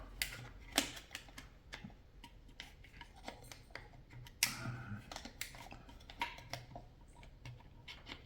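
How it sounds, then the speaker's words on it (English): Plastic fan blades being pushed and clicked into a compact lightbulb-socket fan, a series of sharp close snaps and ticks scattered unevenly over light handling noise. "It does take a little bit of effort to put the blades in."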